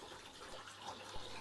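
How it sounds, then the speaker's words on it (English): Water siphoned from a fish tank through a gravel vacuum hose, a steady close rushing and gurgling wash with no voices. "Continue to hoover the bottom of the tank, getting as much of the debris as possible, keeping an eye on the water level."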